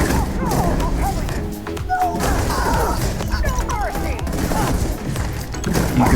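Eternity's Gate fires in the video game Starfield in a dense, rapid barrage of booming shots and heavy thuds with mechanical clatter, loud and near.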